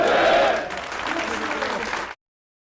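A group applauds President Yoon at the new presidential office in Yongsan, Seoul. The clapping is brisk and steady, with voices mixed in, and cuts off abruptly after about two seconds.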